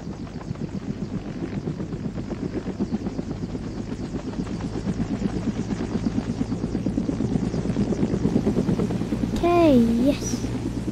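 A helicopter's engines spooling up, a steady throbbing rotor drone that swells gradually and stays close, with a person talking over it and a brief whistling tone near the end.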